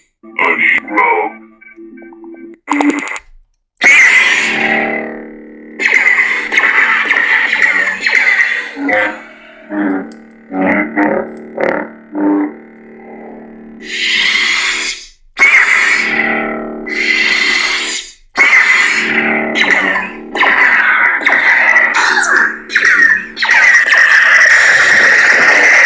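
Saberforge Archon neopixel lightsaber cycling through its sound banks: loud electronic hums, crackles and blade ignition sweeps in separate bursts with brief silences between.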